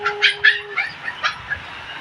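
A dog gives a quick run of about seven short, high yips and barks, close and fairly loud, with no one talking.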